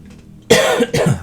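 A quiet moment followed by two sharp, close coughs from a person who is ill, in quick succession.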